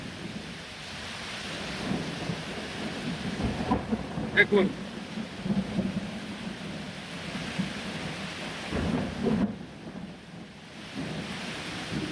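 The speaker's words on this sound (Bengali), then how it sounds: "আপনারা একটু খেয়াল করুন কি হারে বজ্র বৃষ্টি।" A heavy thunderstorm near Narayanganj, with dense rain pouring steadily throughout and thunder cracking and rumbling in a few loud bursts, while someone speaks briefly over the downpour.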